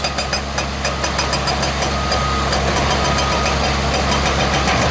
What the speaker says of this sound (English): You can hear the machine working now